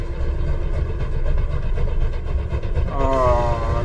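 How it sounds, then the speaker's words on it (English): A train picking up speed inside the Poppy Playtime chapter 2 horror game, a steady loud rumbling rail roar throughout, with a rising tonal whine entering near the end; a person talks over it. "Train's picking up speed"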